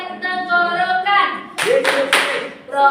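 A sung children's classroom chant about the human respiratory organs, with about three sharp, rhythmic hand claps landing together in the second half while the voice continues.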